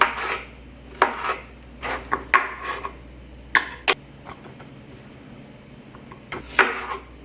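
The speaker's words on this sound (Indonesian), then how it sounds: "Tempenya saya potong-potong agak tebal saja" Knife cutting a block of tempeh into thick pieces on a board, a series of close, sharp chops and taps spaced irregularly with scraping in between, no talking.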